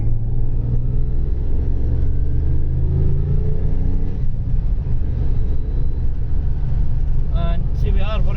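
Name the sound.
Lotus Carlton estate car accelerating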